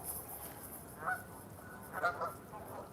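Swans and other waterfowl call beside the water in London: two honking cries about a second apart, moderately loud over a faint, hissy outdoor background.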